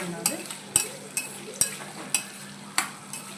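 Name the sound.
potatoes being stirred and fried in oil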